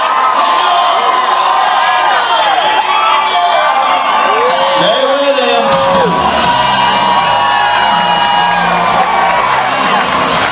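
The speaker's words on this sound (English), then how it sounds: "Oh, what a great Sunday night crowd." A big Sunday night rodeo crowd at a stampede at the Interior Provincial Exhibition whoops and cheers continuously, loud and close, with a voice calling out over the roar.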